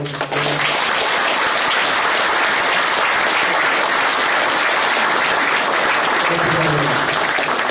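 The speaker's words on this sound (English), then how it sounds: "We can just give them a collective round of applause" A fundraiser crowd gives sponsors a sustained round of applause, loud, dense clapping filling the room throughout, with a voice briefly audible at the start and again near the end.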